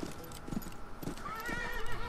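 Horse hooves clip-clopping in the Western game Call of Juarez: Bound in Blood, a few soft rhythmic thuds close by over a faint background hum.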